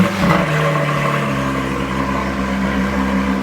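A Lamborghini Huracan Performante rumbles loudly close by, a steady sustained engine roar with no voices over it.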